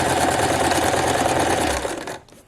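A sewing machine backstitching the hem of a formal dress, a steady close rapid whir that slows and stops near the end, no talking.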